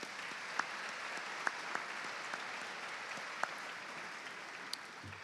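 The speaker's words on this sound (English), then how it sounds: "Would you mind please giving a round of applause for all the board members saying thank you?" Audience applause in a lecture hall at a university leadership lecture series, a faint, distant, even wash of many hands clapping, with a few sharper individual claps standing out.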